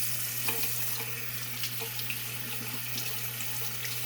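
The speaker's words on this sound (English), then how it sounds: "just kind of let the water flow under and through them" Tap water runs steadily over freshly cleaned rainbow trout, rinsing away the last bits of guts in a sink; a continuous close splashing flow with small clinks, no talking.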